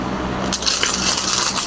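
Coins, including shiny 5-peso pieces, drop and clink together in a short burst of bright metallic jingling that starts about a third of the way in and carries on, close and fairly loud, with no speech.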